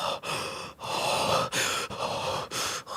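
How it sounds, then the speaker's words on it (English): Heavy, odd breathing laid over an old film trailer: a run of loud, breathy inhales and exhales separated by brief pauses, close and dry, with no talk. "Weird breathing over it."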